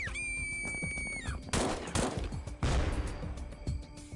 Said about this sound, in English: That's an incendiary grenade.